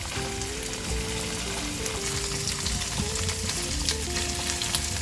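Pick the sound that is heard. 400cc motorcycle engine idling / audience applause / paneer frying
paneer frying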